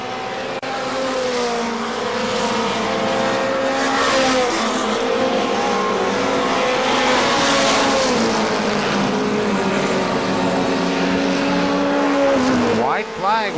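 ARCA SuperCars race cars roar around KilKare Speedway, with engines droning loudly and rising and falling as the cars battle for position. A track announcer talks over them throughout.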